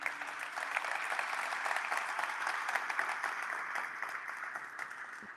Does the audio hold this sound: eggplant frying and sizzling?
no